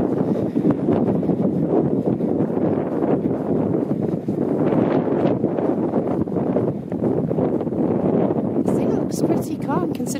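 Strong wind blows across a beach during seal pupping season, a continuous rough rumble of gusts buffeting the microphone, loud and unbroken for the whole stretch.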